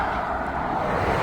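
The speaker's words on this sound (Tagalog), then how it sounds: "Pasensya na po kayo sa ingay na sasakyan" Steady roadway noise from passing cars in traffic, a continuous broadband rumble with no distinct breaks, fairly loud and without talking.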